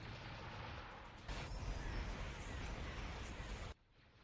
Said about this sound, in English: All units, fire the station.